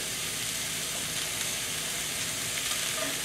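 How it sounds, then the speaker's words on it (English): Chicken fried rice with ginger and garlic is stir-fried in cooking oil, making a continuous soft sizzle and hiss with light tossing noises at moderate distance and no talk. "you just stir, toss with all the ginger, garlic, and the good cooking oil combined together with your ingredient"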